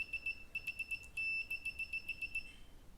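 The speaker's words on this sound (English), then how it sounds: "Very big advantage of this meter is very fast buzzer." Continuity buzzer of a Proskit MT2017 analog multimeter, a faint high-pitched beep sounding in quick short bursts and brief sustained tones as the probes touch and scratch, with no talking.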